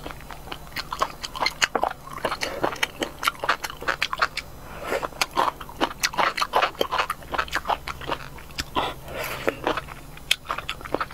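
Boneless chicken feet are bitten and chewed up close, with a rapid irregular run of crunchy bites and wet chewing that continues without pause and without talk.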